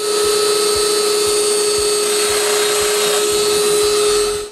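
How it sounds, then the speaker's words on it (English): Domino joiner cutting a mortise into a wooden rail: a loud, steady high-pitched motor whine with a strong tonal hum, running continuously for about four seconds and cutting off at the end, with no talk. "I adjust the stop to that line and make the first mortise"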